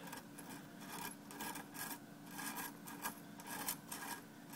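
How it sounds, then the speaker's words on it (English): Coiled steel chain mail wire is worked off a metal mandrel, giving repeated close, soft scraping and rasping strokes of metal sliding on metal in an uneven rhythm. "Let's take it off the mandrel"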